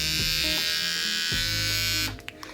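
An unoiled Cronier electric hair clipper buzzes loudly and harshly up close at a steady pitch, then cuts off near the end, leaving a few small clicks.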